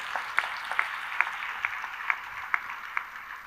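Congregation in a church service clapping hands in praise, a steady rhythmic beat of about seven or eight sharp claps spaced roughly half a second apart, moderately loud against a faint background hum.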